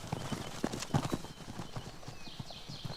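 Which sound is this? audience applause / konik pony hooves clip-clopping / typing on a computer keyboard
konik pony hooves clip-clopping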